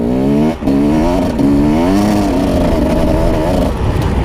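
A motorcycle engine under load while riding, loud and close, with rising and falling rev sweeps and one brief dip in the throttle.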